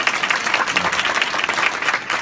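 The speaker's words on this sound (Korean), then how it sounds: "사장님께 박수 한번 부탁드릴까요?" A seminar audience applauds a guest lecturer, a dense, moderately loud clapping with slight rhythmic pulsing throughout, no speech.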